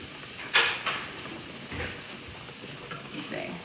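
Onions sautéing in a pan, a steady soft sizzle with a few sharp scraping stirs, close and alone without talk.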